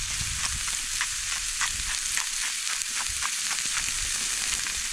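Ground burger meat frying in a pan for chili, a constant bright sizzle and crackle with small pops, close and fairly loud, no talk.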